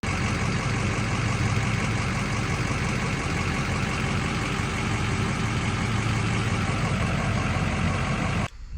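A Ford F-350 Amarillo truck engine idles steadily and loudly at close range, a dense continuous rumble that cuts off abruptly near the end.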